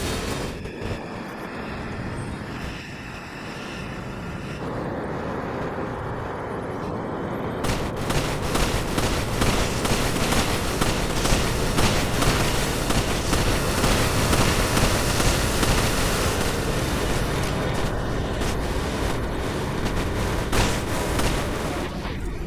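Rapid gunfire cuts down a creature in the video game Resident Evil 5: a dense, loud barrage of shots building from a rumbling background about a third of the way in and continuing nearly unbroken to the end.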